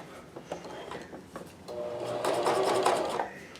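A Janome CoverPro 1000CPX coverstitch machine stitches fabric at a reduced stitch length, a few clicks leading into a close, steady whirring run that builds and then tapers off.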